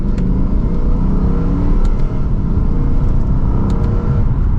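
A Lexus RCF Track Edition pulls hard in second gear in Sport Plus mode, its engine note rising loudly and continuously with a strong exhaust roar, heard from inside the car without talk.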